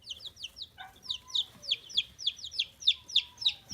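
Baby chicks, including White Marans and an Olive Egger, peep in quick, high, repeated chirps close by, a busy stream of small calls with faint background noise and no talking.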